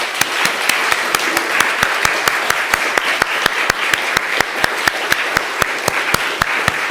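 Audience applause fills a medical conference hall, dense and steady throughout, with clear individual claps standing out at a fast, regular pace close by.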